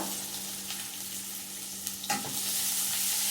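Onion fries in a little oil over a gas flame, a fairly soft, steady sizzle under a faint hum, with a couple of quick stirring clinks near the end and no voices.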